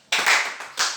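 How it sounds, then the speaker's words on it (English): A church congregation claps in two quick bursts, close and loud, the second swell coming shortly after the first fades; no talking is heard. "Let's clap for the Lord."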